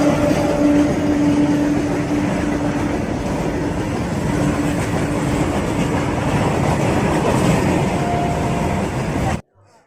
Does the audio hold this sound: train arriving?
yes